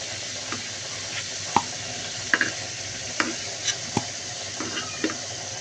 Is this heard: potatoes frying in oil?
yes